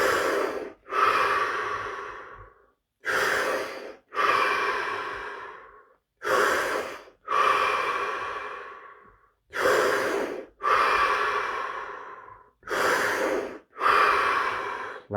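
Deep, forceful breaths come in a steady cycle during a breathing exercise, each quick sharp inhale followed by a longer, fading exhale, all close and loud with short pauses between them.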